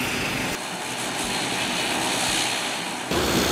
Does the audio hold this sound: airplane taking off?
yes